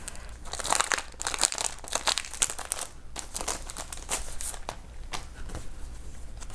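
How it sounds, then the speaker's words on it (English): A Daisy add-on sticker kit package is opened by hand, giving bursts of close plastic crinkling and crackling with brief pauses, loud and near, with no talk. "let's get started with opening the stickers. So this is the Daisy add-on sticker kit."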